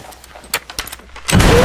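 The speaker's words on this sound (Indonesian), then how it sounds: "Mendengar suara tembakan" Sharp gunshot cracks ring out in a quick irregular burst, loud and close, followed by a rising rumble of noise.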